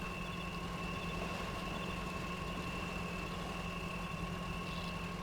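A truck engine idles steadily in the off-road driving game Spintires MudRunner, a continuous low hum with a faint whine that holds constant and alone for several seconds.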